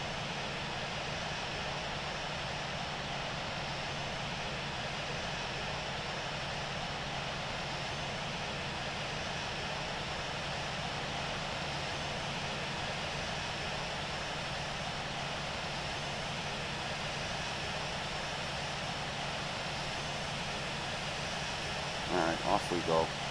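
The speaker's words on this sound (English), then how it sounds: "JetBlue 999 is taking off runway 24, departing west." A JetBlue jet airliner in a flight simulator rolls for takeoff on a short runway, its steady engine roar holding even and continuous throughout, with a brief burst of other noise at the very end.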